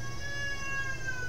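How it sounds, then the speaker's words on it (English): Fighting cats let out one sustained, wavering yowl, steady and fairly close, with no talking over it. "I got distracted by my cats fighting."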